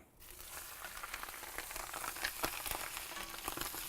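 Hot olive oil sizzling in a pan on a grill, a continuous crackling hiss with scattered sharper pops, moderately close and steady.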